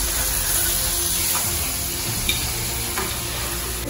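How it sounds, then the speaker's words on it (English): Steady sizzling of food frying in a hot pan, with occasional soft clicks of stirring, close by and continuous with no talking. "So this is the onions, meat, and pepper that I'm frying now."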